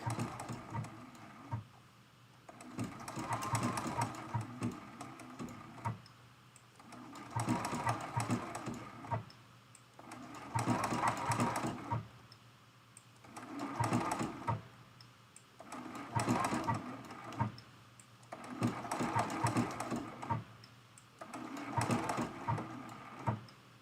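Sewing machine stitching an appliqué on fabric with tiny stitches, running in repeated bursts of steady mechanical whirring and rapid needle patter, each lasting a few seconds and separated by short pauses, fairly close and moderately quiet.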